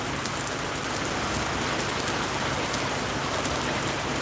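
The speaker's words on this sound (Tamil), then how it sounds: "மழை பெய்யுது" Steady, dense rain pouring down and hissing on surfaces, continuous and fairly loud with no voices.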